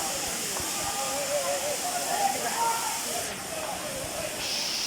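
Five Falls waterfall at Courtallam roars as a steady, broad hiss of rushing water, with faint voices and a brief whistling tone drifting over the constant spray.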